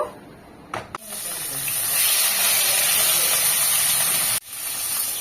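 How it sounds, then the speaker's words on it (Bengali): A sudden loud sizzle erupts and holds as fish hits hot mustard oil, a steady crackling hiss with a brief break near the end. "তেল গরম হয়ে গেছে, এবার আমি এতে মাছ দিয়ে দেব।"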